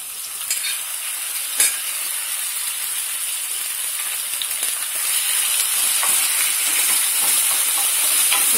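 Minced meat frying in a pan produces a continuous bright hiss and sizzle, close and moderately loud, with a few stirring clinks and the sizzle swelling slightly toward the end.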